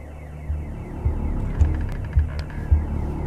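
A pulsing electronic alarm sounds in the video game The Occupation, throbbing in a steady rhythm of low surges roughly every half second over a droning hum, with no voices.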